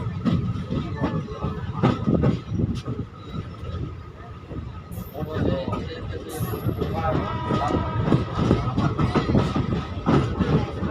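A passenger train on the Katihar–Malda Town line pulls out of Eklakhi Junction, rumbling and clattering steadily over the rails, close and continuous, with a voice speaking over it.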